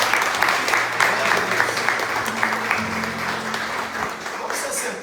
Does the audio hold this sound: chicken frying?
no